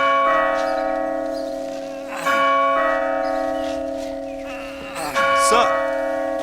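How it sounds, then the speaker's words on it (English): A great bell by a gate lodge rings with a sustained, steady metallic tone, with fresh strikes every few seconds under a narrating voice. "beside the lodge, a great bell"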